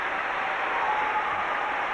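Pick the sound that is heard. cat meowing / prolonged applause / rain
prolonged applause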